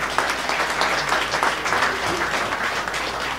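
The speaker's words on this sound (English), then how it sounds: "Good, you can applaud that." Audience applause at a regional headmaster's ball: dense, steady clapping from a large crowd, even in volume throughout, with no talk over it.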